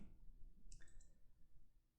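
A single computer mouse click while working in ArcMap software, one short, faint, sharp tick over quiet room hiss, with no voices.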